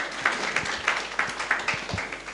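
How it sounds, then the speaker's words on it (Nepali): A church congregation at a midweek service claps together in a steady, moderately paced rhythm, a scattering of hands heard at middle distance. "तपाईँहरूले आफैले आफैलाई ताली बजाएर स्वागत गर्न सक्नुहुन्छ"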